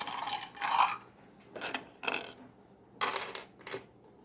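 Sewing clips are snapped onto the recessed zip panel of a handmade bag, giving several crisp plastic clicks and clacks in loose pairs, close and clear with a faint hum between them.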